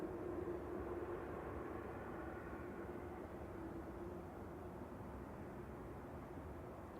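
A Qatar airliner turns onto the approach at Manchester Airport, a distant, steady low roar with a faint sustained hum, even and unbroken throughout.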